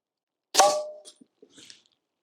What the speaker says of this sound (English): Next up, we have the Glock 21 wearing a dead air suppressor with some 45 ACP ball.